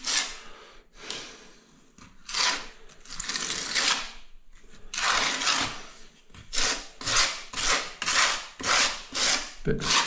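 Grout being pushed into tile gaps by hand with a small improvised tool, giving repeated scraping rasps in uneven bursts, close and fairly loud, with a quicker rhythmic run of strokes toward the end.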